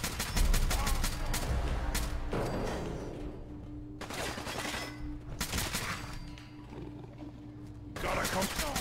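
Repeated gunfire in Fallout 4, heavily modded, with rapid bursts of loud shots through most of the stretch, short pauses between volleys, and a voice talking over the shooting.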